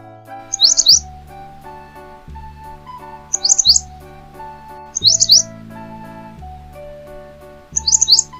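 Bulbul chirps come in four short, bright bursts at regular intervals, each a quick cluster of tweets laid over a gentle children's song melody.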